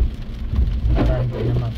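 Heavy rain pours down steadily, a loud dense wash of drops with a low rumble beneath, and a voice speaks briefly over it.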